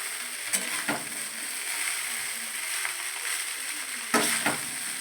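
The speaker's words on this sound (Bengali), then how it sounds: "চাউমিনটা দিয়ে কিছুক্ষণ নাড়াচাড়া করব।" Chow mein noodles with egg sizzle steadily in a hot pan, with a few louder scraping stirs breaking through the continuous frying hiss.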